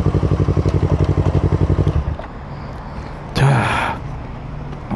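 A 2016 Yamaha R25 V1 motorcycle idles with a steady, rapid pulsing thump for about two seconds before the engine cuts off, leaving quiet rustle and a brief loud burst of noise nearby.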